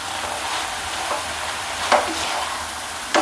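Banana stem poriyal is stirred in a pan over a steady, close frying hiss, with two brief scraping knocks from the spoon and no voices.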